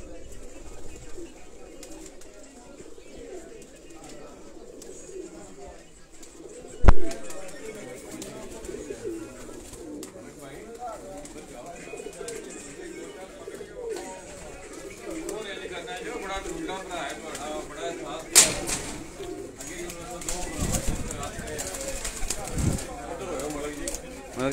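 Pigeons cooing in a loft during a Sialkot pigeon-flying tournament, soft low coos running steadily throughout, with a couple of sharp knocks and distant background murmur.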